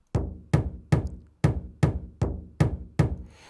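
Eight punchy drum tom hits from a sample pack for an Afro House beat, evenly spaced about every half second, each with a deep thump and a quick decaying tail, loud and dry with no voices.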